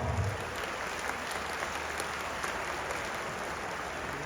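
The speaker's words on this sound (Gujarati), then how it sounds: "51 કરોડના દાતાશ્રી, તાળીઓ તો પાડો." Audience applause at a community foundation-stone ceremony honouring large donors: a steady wash of many hands clapping that holds evenly from start to finish, dense and fairly loud with no voices over it.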